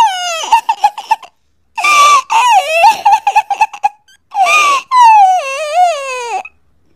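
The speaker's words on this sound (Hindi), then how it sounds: "तभी उसे रोने की आवाज आती है।" A child cries and sobs in a forest in a series of loud, close, wailing bursts with short gaps between them.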